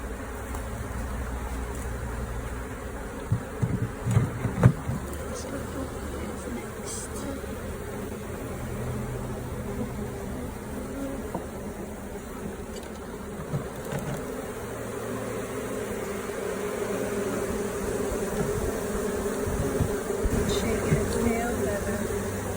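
Agitated bees from a beehive buzz in a continuous low drone, fairly close, with a few brief knocks and rustles near the start and a steady hum carrying through to the end.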